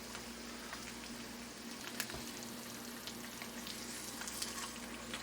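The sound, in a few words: egg frying in a carbon steel pan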